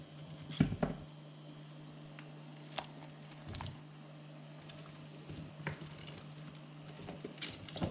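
Wild leeks dropped into a pot of boiling water, giving a few soft wet patters and splashes near the start, then scattered light squishing and crinkling over a steady low bubbling hum.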